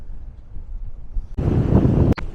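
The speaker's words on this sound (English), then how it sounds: "Seen gusts up to 20 so far while I was standing here." Gusty wind buffets an outdoor microphone at a windy overlook spot in Juneau, Alaska, starting low and then bursting into a loud, sustained roar with a sharp thump near the end.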